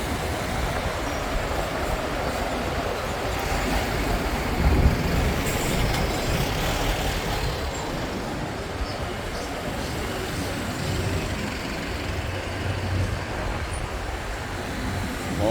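A local bus rolling along a street in Marmaris near a beach hotel, a broad steady engine and road rumble that stays fairly loud and close for the whole stretch, with faint street sounds behind.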